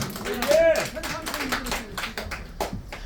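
A concert crowd at a band's anniversary party breaks into applause and scattered cheers while a voice on stage speaks over the clapping, which stays moderate and fades over a few seconds.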